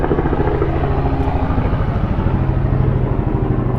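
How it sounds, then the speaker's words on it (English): Helicopter flying overhead, a loud, continuous throbbing engine and rotor drone with a steady low rhythmic pulse, filling the whole stretch with no speech. "Always a helicopter going over when I try to film something."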